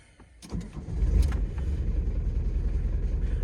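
A diesel van engine turns over with a brief starter whir, then catches and settles into a loud, steady low rumble that carries on close by, with no talking over it.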